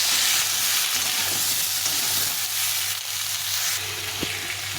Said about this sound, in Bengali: একটু হলুদ দিয়ে এটাকে ভালো করে ভেজে নেব।